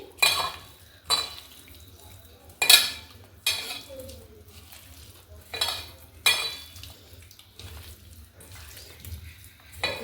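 Chicken pieces mixed by hand with salt, turmeric and pepper in a bowl produce a series of sharp clinks and scrapes roughly every second, with quiet gaps between them.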